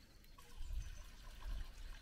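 Water spilling out through the spillway of a permaculture pond, a steady low trickling rush with two fuller surges partway through, close by and with no voices.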